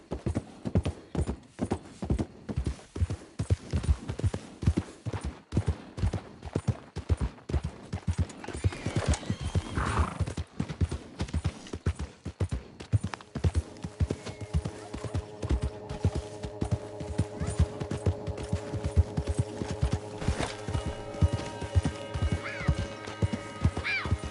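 A horse's hooves clip-clop in a fast, steady gallop in Red Dead Redemption 2, loud and close, with a whinny near the middle and a sustained tonal hum rising behind the hoofbeats later on.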